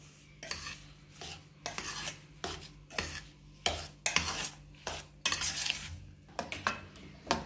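A spoon stirs batter of baking soda, salt and semolina in a bowl, repeated scraping strokes in a quick irregular rhythm, close and clear.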